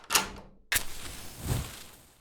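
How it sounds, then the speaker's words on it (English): A supermarket door being shut and locked in a hurry: a sharp clack, a louder metallic bang about half a second later, then a duller low thump, all close with no talking. "Lock the door."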